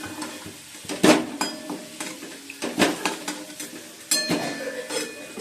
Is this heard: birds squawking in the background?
no